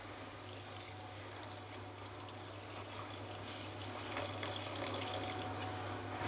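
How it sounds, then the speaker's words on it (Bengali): Water poured onto spiced ridge gourd in a cooking pan during home cooking, giving a steady, continuous splashing rush at moderate level throughout, with a faint low hum beneath and no voices. "জল দিয়ে দেবো।"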